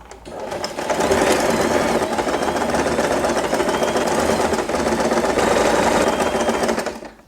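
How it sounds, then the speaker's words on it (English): A sewing machine runs in one continuous fast burst, stitching fabric for a layered ribbon bow, close and steady with a rapid mechanical chatter that starts and stops cleanly. "Now I will sew it a little inside here."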